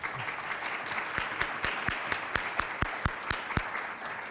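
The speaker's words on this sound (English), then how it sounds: "A big round of applause for our first panel." An audience at a hunger-initiatives panel event applauds steadily, a soft wash of many hands with a few sharper, louder claps standing out at a regular pace near the front.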